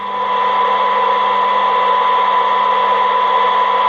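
Steady 1 kHz test tone from a signal generator, received on a Midland 3001 radio under restoration, sounding as a continuous pure whistle over a bed of broadband radio hiss, constant and fairly loud throughout.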